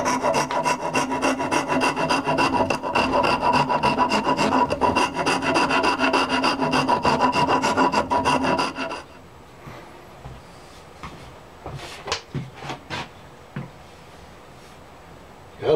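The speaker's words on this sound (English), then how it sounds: "just shave some more of this material off of the axe handle" A blade shaves wood off an axe handle in a fast, continuous rasping scrape for about nine seconds, followed by a few sparse knocks and scuffs.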